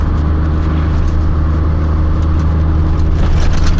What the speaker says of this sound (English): I try press the gas just now, try to bring it on boost, and seems like it's overboosting.